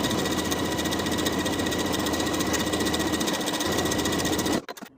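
A sewing machine stitching the shoulder seams of a dress facing with a 3/8 inch seam allowance, running in a loud, steady, rapid mechanical whir close up, then stopping abruptly near the end.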